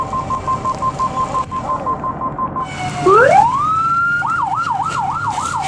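Police and ambulance sirens sound on a rain-soaked Andean road in Colombia during a storm near a landslide. A pulsing tone gives way to a rising wail and then a fast warbling yelp, loud and close, over rain and traffic.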